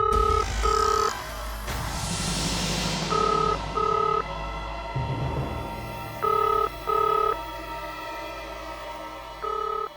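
A telephone rings loud and close in repeated double bursts of electronic tone, with a low hum filling the pauses between rings.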